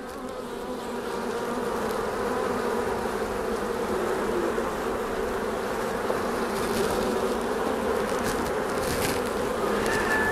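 Honeybees buzz in a dense, steady drone as a colony is moved from a nucleus box into a full hive, loud and continuous throughout with no talk.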